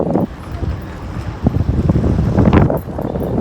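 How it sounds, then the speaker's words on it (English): Strong wind buffets the microphone in loud, gusty rumbles while riding a bicycle toward Tokyo Station along Yaesu-dori, with a few faint background sounds underneath. "It's so windy."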